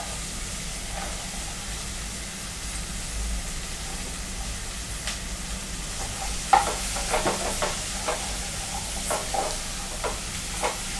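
Bitter gourd pieces frying in a pan for thokku: a soft, steady sizzle with a low background hum, then a run of close stirring clicks and scrapes in the second half.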